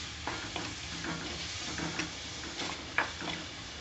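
Chopped tomatoes sizzle and fry in a pan for chicken kulambu, a quiet steady crackle with soft scraping stir strokes and a small clink near the end.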